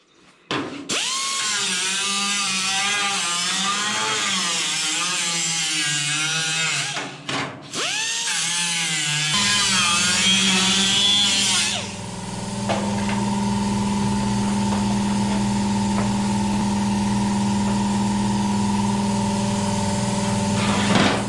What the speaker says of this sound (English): A little bit of sanding, and it'll be in.